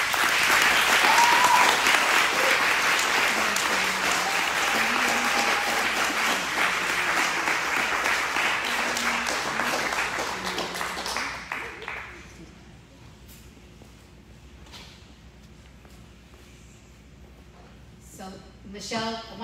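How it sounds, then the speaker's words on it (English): Thunderous applause from a crowd at a gathering honoring victims of police violence in Los Angeles, loud and sustained for about twelve seconds before dropping away to quiet room sound with a few scattered claps near the end. "Michelle, I want to make sure you hear our thunderous applause again."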